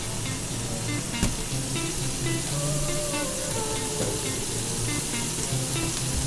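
Hamburger patties sizzle and fry steadily in a hot pan for keto burgers, a dense, even crackle with brief spatters and utensil clinks, close and continuous with no talking.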